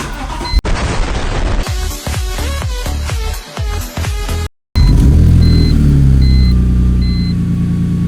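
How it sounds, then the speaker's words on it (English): A BMW E46 M3 cranks in a series of rapid rhythmic bursts, goes quiet for a moment, then fires up into a loud, steady rumbling idle close by, with a faint high electronic chime repeating. "we're gonna go ahead and start the car, make sure it works and we don't die"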